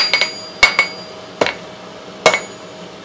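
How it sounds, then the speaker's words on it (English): A forging hammer strikes hot steel on an anvil with a round die while the beak of a crane is tapered. The blows come as sharp, loud metallic clinks, some in quick pairs, each followed by a short ringing decay. No one speaks. "I'm not damaging the anvil or my hammer by hitting it because I'm using my round die"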